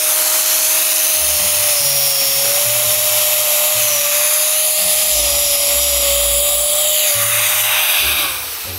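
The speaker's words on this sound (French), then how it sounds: "Est-ce que je dis tout ça pour évidemment vouloir tester la disqueuse?" An angle grinder runs continuously with a high whine and harsh grinding noise, loud and close, holding steady before tapering at the end.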